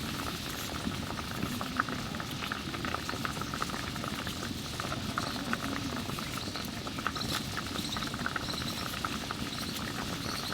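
Figs simmering in a pot of water, a continuous close bubbling and gentle popping patter that stays steady and even throughout, with no voices.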